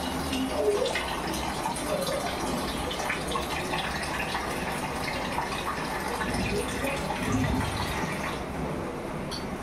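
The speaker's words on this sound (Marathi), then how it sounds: "अशा प्रकारे हे आपले तांदूळ धुतले गेलेले आहे" Water splashes and swishes steadily as grains are rinsed and stirred by hand, close up, a continuous wet sloshing without speech.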